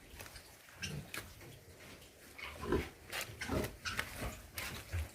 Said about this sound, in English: Pigs in the pig pen.